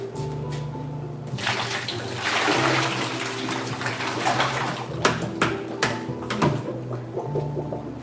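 Gelato base is poured into a bucket in a steady, gurgling liquid stream that swells midway, then breaks into splashes and glugs as the flow tapers, with a low machine hum running underneath.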